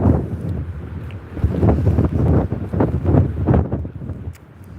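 Wind gusts buffet the microphone on a wet, wintry beach walk at Withernsea, a loud, rumbling roar that swells and dips in repeated surges with no talk.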